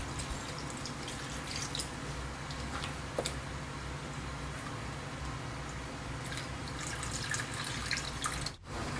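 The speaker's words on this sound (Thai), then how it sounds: "เทหางกะทิให้ท่วมไก่นิดนึงนะครับ" Thin coconut milk pours steadily into a pot of chicken for a Thai chicken and fresh bamboo shoot curry, a continuous close liquid splashing and trickling with no talk.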